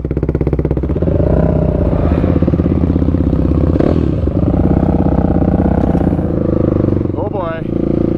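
Several off-road quads, including a Yamaha YFZ with an aftermarket exhaust, fire up and idle loudly with a steady throbbing engine note and revs, close by at a desert OHV park, as a person talks over the noise.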